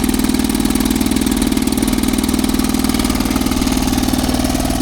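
A 1957 Sea King 5hp outboard motor idles steadily and loudly up close, its rapid even putter holding a constant rhythm throughout with no talking.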